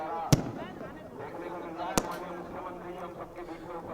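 Two sharp firecracker bangs, one early and one about a second and a half later, ring out during a Deepotsav festival night at Har Ki Pauri, with a crowd murmuring and a voice talking beneath.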